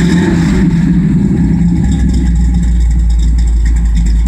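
A carbureted car engine fitted with a fuel return line runs after starting, a loud steady rumble with a brief rise in revs at the start before settling into a constant idle, with no voices.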